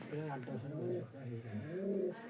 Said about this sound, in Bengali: এই একটা পায়রা আছে, বহুত পুরনো পায়রা, 10 বছরকার বয়স বলছে